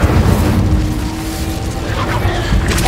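The Incendio fire spell goes off in Hogwarts Legacy as a loud, dense whooshing roar of flame with a rumbling low end that stays steady for a few seconds and swells again at the end.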